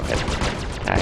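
Rapid weapon fire from a spaceship in Star Citizen, a dense burst of repeated blasts over a loud continuous background, lasting about a second.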